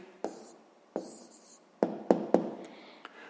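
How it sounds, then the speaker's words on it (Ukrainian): A pen writes out a math answer on paper in short, close strokes, several separate scratchy bursts with quiet gaps between them. "Гаразд, ну що ж, записуємо відповідь."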